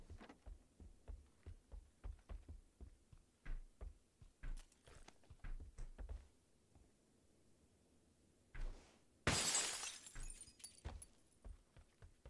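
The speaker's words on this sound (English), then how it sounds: "Sometimes I like to break glass." Glass shatters once in the battle-royale video game PUBG: a sharp, bright crash comes after a run of soft rhythmic footsteps and thuds. No one speaks.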